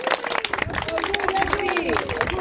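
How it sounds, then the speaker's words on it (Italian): Crowd applause at a blessing of premises by a bishop, with steady clapping running under voices and chanting from the gathering. "Applauso."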